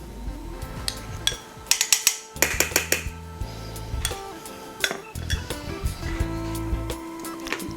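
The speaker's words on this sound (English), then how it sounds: "Put this pan on to get hot" A pan is set on a stovetop to heat with oil and butter for seafood, with metal cookware clattering and clinking in quick bursts, loud and close, then settling into lighter knocks.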